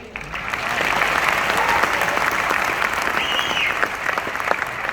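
A crowd at a money-earning seminar breaks into sustained clapping, a dense, steady applause with a few cheers mixed in, holding strong for several seconds.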